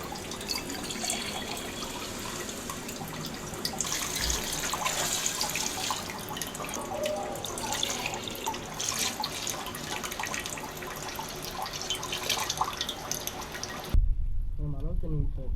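Water poured into a cooking pot for Sunday mutton biryani, a continuous splashing pour lasting most of the time before cutting off, with a brief voice at the end.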